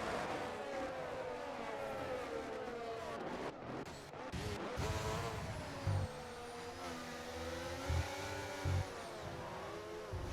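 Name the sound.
car brakes squealing, tires locking up in racing video game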